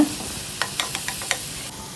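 Ginger garlic paste fries in a pan with a bright, close sizzle, while a spoon stirs through it in about five quick scraping strokes, with no talking.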